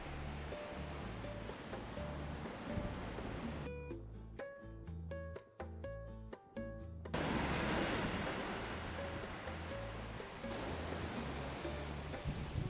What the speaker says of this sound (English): A pretty little beach.